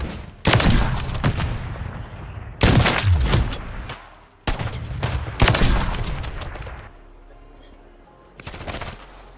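Rapid bursts of automatic gunfire from a first-person shooter video game, several loud sustained volleys separated by short pauses, with a fainter trailing burst at the end and a voice briefly audible.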